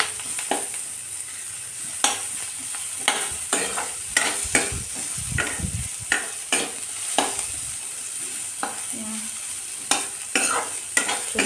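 Onions and green chilies fry in a little oil, giving a steady sizzle broken by close, repeated scrapes and clinks of a spoon stirring in the pan, with no talk.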